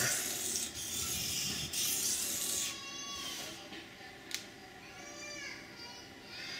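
A knife blade is rubbed back and forth against a sharpening stone to raise a burr, giving close, rasping strokes that rise and fall in a steady rhythm, with a faint voice in the background.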